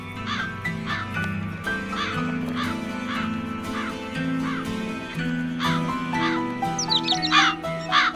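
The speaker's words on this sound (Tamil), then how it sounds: "காக்கா ரொம்ப நேரமா கத்திட்டு இருக்குல்ல" Harsh cawing calls repeat at a steady pace over a sustained musical backdrop, growing busier and louder toward the end.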